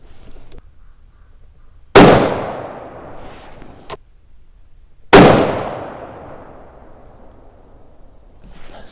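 Two loud rifle shots from a Ruger M77 in .243 Winchester firing Reloader 15 loads crack out a few seconds apart, each with a sharp onset and a long rolling echo, with a small clink between them.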